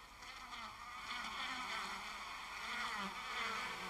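Honey bees buzz steadily around their hive, a close, dense and continuous droning swarm that stays loud throughout with no talk.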